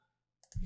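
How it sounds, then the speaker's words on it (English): A computer mouse button clicks once while a new web page is being created in a site editor, a short crisp tap followed by a louder thump of handling noise. "So I'm going to click New"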